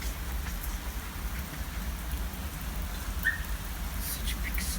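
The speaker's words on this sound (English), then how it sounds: "now it's raining hard" Heavy rain pours steadily after a hailstorm, a dense continuous hiss and patter on surfaces, close and even throughout.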